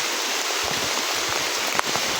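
Heavy rain pours down along an overgrown farm path, a dense, constant hiss of water with occasional louder drips and splashes nearby and no talking.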